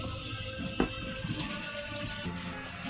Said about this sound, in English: I'm going to wash my hands because the crescent rolls are very greasy